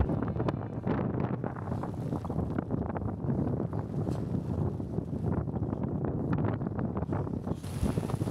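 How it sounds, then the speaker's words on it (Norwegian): Strong wind roars and buffets steadily on the snowy Hardangervidda plateau, a loud, continuous rushing gust noise with no speech. "Det blåser og snør godt på Hardangervidda i kveld."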